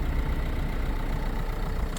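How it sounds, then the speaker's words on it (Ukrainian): A car engine idles with a steady, smooth low rumble, close and continuous, with no other sounds over it. "Мотор працює, як то кажуть, як шелепунчик, моторчик-шелепунчик."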